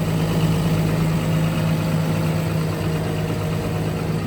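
A 2016 Komatsu PC240 LC-11 excavator's diesel engine idles steadily and close by, a constant low rumble with a steady hum that holds at an even level throughout, with no talking.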